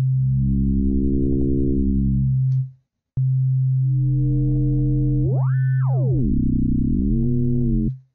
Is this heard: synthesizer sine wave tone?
yes